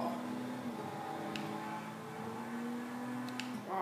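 Steady in-game car engine drone from GTA 5, a sustained harmonic hum that holds for several seconds with slight pitch drift and a rise near the end, mid-loud and continuous with no talk.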